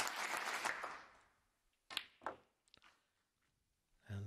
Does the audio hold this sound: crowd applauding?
yes